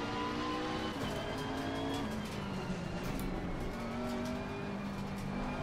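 A McLaren race car engine in Assetto Corsa Competizione drones and revs steadily, its pitch climbing and dropping through gear changes, with faint tyre noise underneath.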